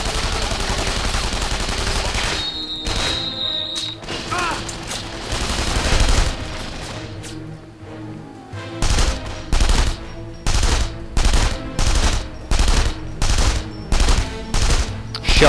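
Gunfire in The Saboteur video game: an opening run of rapid shots, a quieter stretch, then a steady series of about a dozen loud, evenly spaced bursts near the end.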